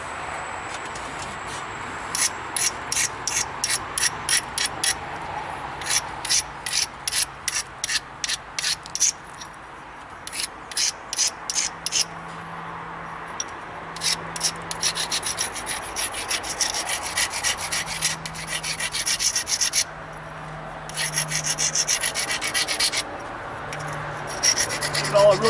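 An obsidian spear point preform having its edge ground, a close, rapid rasping scrape repeated in quick rhythmic bursts with short pauses between runs, plus a faint low hum underneath.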